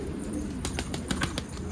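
A caught runaway pigeon with its wings loose, giving soft low cooing close by, with a few quick bursts of wing flapping and rustling over the last second.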